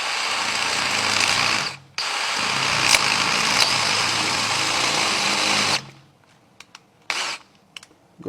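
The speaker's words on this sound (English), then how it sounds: "Brace myself, start drilling." A power drill bores into a blown-up 327 engine block in loud, sustained whining bursts, breaking off briefly near two seconds, then stopping around six seconds, leaving only a few short sputters and taps.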